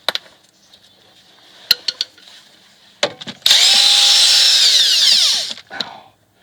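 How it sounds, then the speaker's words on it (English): A pneumatic impact gun spins and rattles loose a 16 mm bolt on a Mercedes W203 front strut, a loud sustained whirr of a few seconds after scattered metallic clicks and taps. "And I'm just gonna pop that off really quick. If I can get this socket off of my impact gun."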